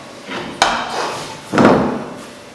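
A sharp knock followed by a soft, heavy thud and a brief rustle as cooked sushi rice lands on a wooden board nearby.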